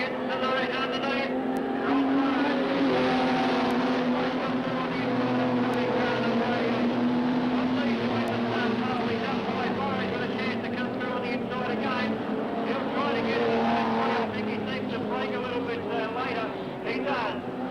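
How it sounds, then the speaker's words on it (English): Race cars at Redline Raceway in 1988 roar continuously around the track in a dense, steady engine drone, with a commentator calling the action over the noise throughout. "Here's the move by Burrows in 66. Burrows gets to the right underneath."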